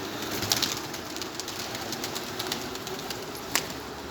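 Pigeons on a high rooftop, faint cooing and a couple of brief wing flutters or calls over a steady outdoor hum, with no talk.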